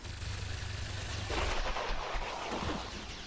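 Rapid bursts of weapon fire from the XCOM Long War of the Chosen strategy game, loud and sustained, with heavy booming shots running over a constant game-audio rumble.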